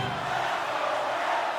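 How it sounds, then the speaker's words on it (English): Arena crowd noise in the NHL 25 hockey video game during a tied game, a dense continuous roar of massed voices at steady loudness, with no clear commentary over it. "You can feel the energy in this crowd."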